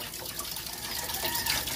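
Spring water piped down about 15 kilometers from the mountains pours steadily and close, a continuous broadband rush with no pauses and no talk.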